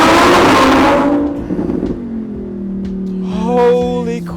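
A Lamborghini Huracan EVO RWD Spyder's V10 engine roars with the top down, then settles into a deep, echoing hum that rises again briefly, booming and resonating inside a short tunnel.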